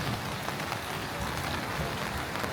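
Light rain at the tail end of a shower on a town street, a faint, even patter and hiss of drops on surfaces, steady and quiet with no voices.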